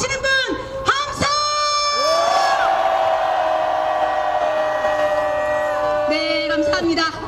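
A crowd at a Korean political prayer rally roars and cheers in a sustained, loud wave of shouting, with scattered whoops and whistles rising over a bright, steady tone in the middle and falling away near the end.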